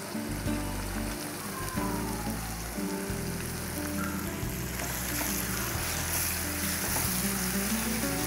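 Tomatoes with plain chili powder sizzling and frying steadily in a pan for seeni sambol, a continuous close crackle like light rain with faint stirring, no voices.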